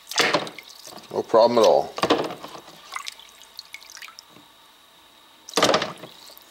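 A ThruNite Neutron 2C V flashlight is dunked into water, giving short splashing and dripping bursts near the start and again near the end, with someone talking in between.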